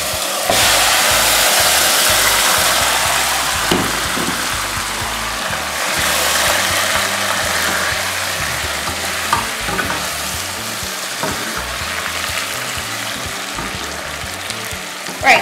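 Chicken pieces for Trinidad pelau hit a pot of caramelized sugar and oil, giving a loud, steady frying sizzle with stirring scrapes throughout, and no voices over it.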